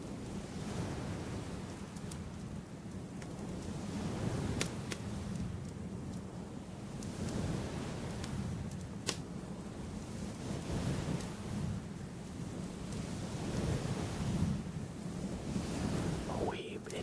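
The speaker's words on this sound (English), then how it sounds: "And it sounds like ocean waves." A fluffy microphone windscreen rubbed close up, producing a continuous soft rushing roar like ocean surf, steady and even throughout.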